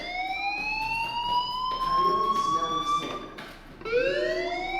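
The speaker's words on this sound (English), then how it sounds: "do you hear that fire alarm?" A fire alarm wails in the video game Life is Strange, its rising and falling siren tone cycling steadily over a noisy background, with no talk.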